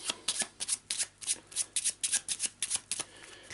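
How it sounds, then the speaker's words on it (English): Eldritch Horror encounter cards riffle-shuffled and cut in quick bursts, about a dozen crisp papery flutters in steady rhythm, close and clear with no talking. "A quick shuffle and a quick cut."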